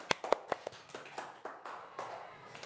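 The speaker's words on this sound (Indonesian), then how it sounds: "Beri tepuk tangan dulu untuk semuanya." A few sharp, separate hand claps ring out close by in a classroom, a handful of quick, uneven claps that thin into faint, scattered taps.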